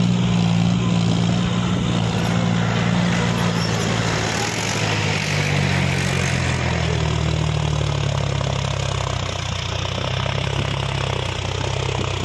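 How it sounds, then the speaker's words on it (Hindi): John Deere 5050D tractor pulling a fully loaded trolley up a slope: a steady, loud diesel engine drone with a low throb that deepens and shifts midway, continuous with no talk. "ट्रैक्टर अभी देखो उठता ही आ रहा है"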